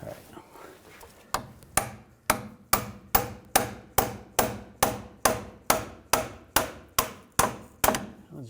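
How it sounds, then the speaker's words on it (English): A hammer taps a rusted steering rack part on a 2015-2018 GMC Sierra 1500 5.3L V8, about sixteen sharp, evenly spaced metallic strikes close by, with faint talk at the start. "I'm just going to give it a tap with a hammer"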